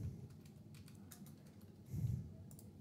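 Quick light tapping on a computer keyboard mixed with a few mouse clicks, close and fairly faint, in short irregular bursts.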